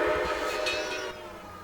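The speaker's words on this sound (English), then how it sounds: "let's listen to the whistle" A Southern 630 steam locomotive whistle in the Trainz game blows one sustained, loud chime-like tone that drops off slightly in level before ending.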